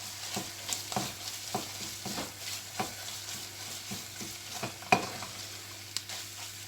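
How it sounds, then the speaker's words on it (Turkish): Tomato paste sizzles with meat and onion in a pot for dried okra soup, a steady frying hiss broken by rhythmic spoon scrapes and taps about every half second. "Şimdi içerisine 2 yemek kaşığı kadar salçamı ekliyorum ve salçamın kokusu çıkana kadar kavuruyorum."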